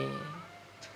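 A pet cat gives a single clear meow, drawn out and close, fading into quiet room tone.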